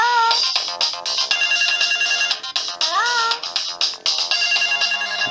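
Built-in polyphonic ringtone on a Samsung D100 phone plays loudly through its speaker, a bright synthesized melody of chirpy tones and gliding notes running continuously for several seconds with no talking.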